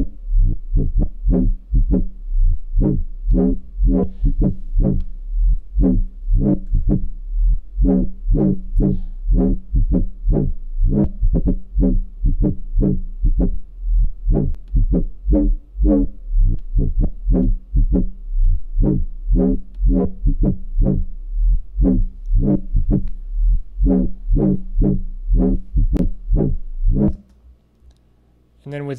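A dubstep wobble bass synth made with Xfer Serum in Ableton Live 10 pulses in a tight, even rhythm of repeated punchy throbs for nearly half a minute before cutting out abruptly.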